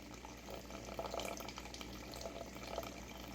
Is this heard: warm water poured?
yes